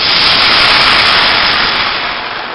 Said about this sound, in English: I'm going to do 3 cups of water. It's going to steam up,